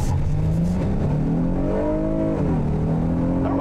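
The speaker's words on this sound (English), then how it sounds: "It actually broke the tires loose a little bit back there." A 2021 Honda Odyssey Elite minivan accelerates hard over railroad tracks, its tires briefly breaking loose. The close, steady engine drone climbs in pitch under load, then dips and climbs again, with no talk.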